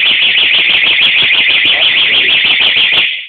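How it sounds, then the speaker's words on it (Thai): Anti-theft alarm on a Honda MSX motorcycle, a loud, close, continuous electronic siren warbling rapidly for about three seconds before cutting off. "ติดสัญญาณขโมยเรียบร้อยนะครับ"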